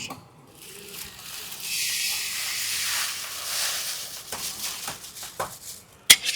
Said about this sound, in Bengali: এবার আমরা ভেজে নেব মুগ ডালটা।